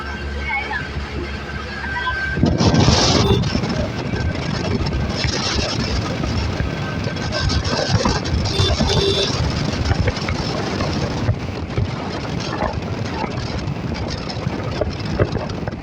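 Strong wind at Mankuppam beach buffets the microphone with a loud, continuous, rumbling roar that swells after the first couple of seconds, while voices talk faintly underneath.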